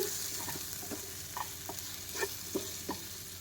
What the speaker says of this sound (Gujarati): પેન હજી ગરમ છે તો થોડીક વખત આવી રીતે આમ હલાવશું